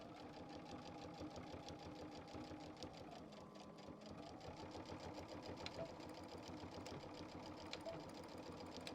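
A sewing machine runs continuously, stitching and backstitching along the gusset of a quilted backpack, its rapid mechanical chatter steady and fairly quiet throughout with no talk.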